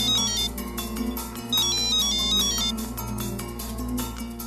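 A mobile phone plays a ringtone while a call is placed, a melodic repeating electronic tune, close and steady, with no talk.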